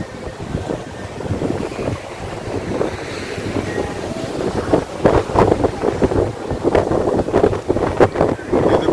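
Gusty sea wind at the edge of Colachel fishing harbour on the Arabian Sea, with boats nearby, buffets the microphone in a steady broadband rush that swells and thumps more strongly in the second half.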